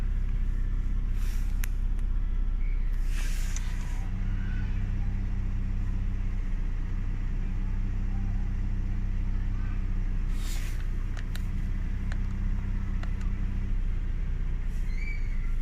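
Opel Astra K engine running with a loud, heavy low rumble that holds steady throughout, a few brief higher clicks and whooshes over the drone, no talking.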